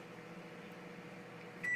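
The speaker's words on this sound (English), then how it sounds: "Okay, 1 minute in the microwave." A microwave oven runs with a steady low hum, faint and continuous, ending with a short high beep near the end.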